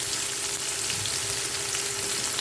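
Potatoes fry in a masala-coated frying pan with a steady, close, even sizzle and crackle that never lets up, and nobody speaks.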